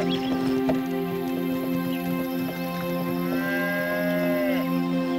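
Cattle low with a long sustained moo over a steady rural background, heard alone with no talk, suited to a bullock cart scene.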